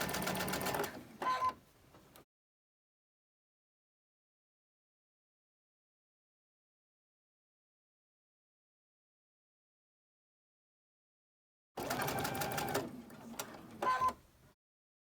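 A sewing machine stitches quilt pieces in two short bursts of rapid mechanical chatter, separated by a long silence.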